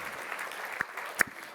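An audience applauds to welcome a panelist, the CEO and President of APLA Group, onto a conference stage; the steady, hushed clapping sounds soft and distant, with a few sharper individual claps standing out.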